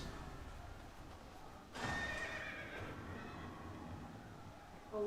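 A horse neighs in the video game Final Fantasy XIV, one sudden whinny rising out of quiet game ambience with faint hoofbeats, then settling back to low background sound.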